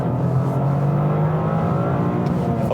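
A 2025 Toyota GR Corolla accelerating hard, a steady loud engine drone heard from inside the cabin with road roar beneath, continuous and close with no talking.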